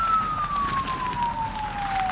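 A fire truck's siren wails in a long, slowly falling tone at a warehouse fire, loud and steady over crowd and street noise.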